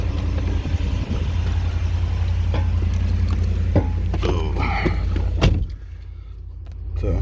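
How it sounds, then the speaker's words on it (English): A 2011 Ford F-150 Raptor with a 6.2L V8 and four-wheel drive runs with a steady low rumble, a few clicks and knocks over the top, then the sound drops away sharply near the end. "So nice truck, starts up"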